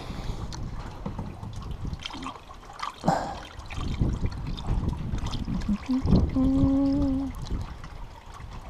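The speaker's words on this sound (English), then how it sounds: "So I'm going to throw some coolant in it first." Coolant is poured into the top of a Corsa VXR Nurburgring Edition radiator with the bleed valve out, giving a close trickling, gurgling pour with faint handling noise in the background.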